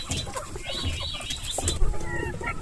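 A flock of about 1000 Sonali chickens on a poultry farm cluck and chatter, with scattered calls overlapping against a constant background of farmyard noise.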